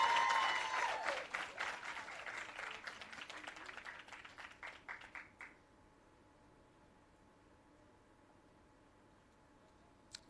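An audience at an employee service awards ceremony gives a round of applause, dense clapping that thins into scattered claps and dies out after about five seconds, leaving near-silence.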